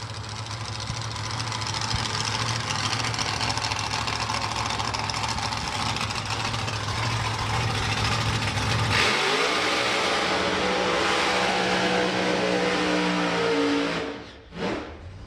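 A loud Ford Anglia drag racing car engine roars and revs continuously at a drag strip, then drops off sharply before a final burst of throttle near the end.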